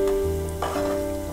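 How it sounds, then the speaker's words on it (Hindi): Semolina added to hot desi ghee for halwa sizzles and fries steadily in the pan, with a brief stirring scrape partway through, close and clear. "देसी घी बिल्कुल गर्म हो चुका है, अब मैं इसमें सूजी डालूंगी"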